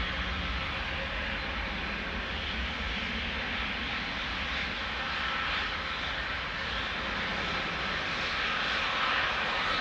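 A KLM flight departs Amsterdam Schiphol Airport for Nuremberg, a continuous, even jet engine roar held at fairly low level from start to end.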